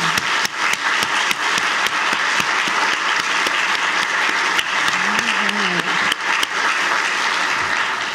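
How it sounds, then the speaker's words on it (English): A warm round of applause for committee members, volunteers and sponsors at an awards program, a dense continuous clapping from a sizable audience with a few sharper claps standing out, filling the whole stretch. "Please join me in a warm round of applause for the committee members, volunteers, and sponsors"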